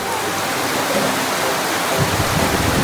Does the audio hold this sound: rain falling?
yes